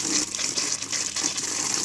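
Water from a well pump gushes steadily into a container outdoors, a continuous close, loud rushing flow with no talk.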